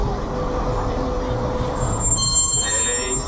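The Walt Disney World Railway train rolls from Storybook Circus toward Main Street U.S.A. with a steady, close rumble of wheels on track and a thin, high wheel squeal rising near the end.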